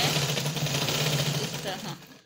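A sewing machine runs continuously while stitching fabric for a poncha garment, a steady motor hum with a rapid buzzing needle rhythm, close and fairly loud, slowing and stopping near the end.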